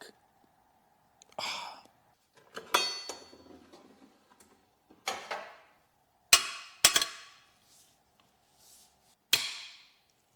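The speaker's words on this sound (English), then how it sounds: "Never thought I would hear intake bolts make that noise." Stuck intake bolts on a Mercedes-Benz W140 S600 6.0 V12 being broken loose: a series of sharp, loud creaking squeals and cracks in separate bursts, with a steady faint hum underneath.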